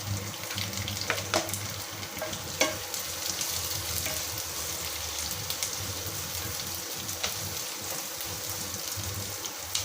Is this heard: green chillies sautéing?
yes